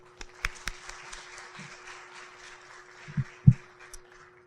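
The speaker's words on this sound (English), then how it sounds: "how about a warm round of applause for our 11th president as he delivers our address, Dr. Thomas Krise" Sparse, faint applause at a university faculty convocation, a few scattered claps over a quiet hall with a steady hum and a couple of louder low thumps.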